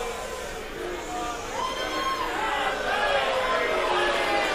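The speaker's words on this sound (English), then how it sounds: "Noise in the crowd, not for the first time, putting Hankey off." Murmuring crowd chatter at a BDO World Darts Championship match, a continuous loud indoor hubbub of many voices with a commentator talking over it.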